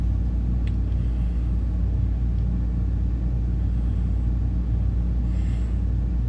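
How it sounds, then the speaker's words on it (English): A rooftop air conditioner on an RV in a 30 amp park hums steadily at close range, a constant low droning rumble with no breaks and no voices. "so we only have one AC running now"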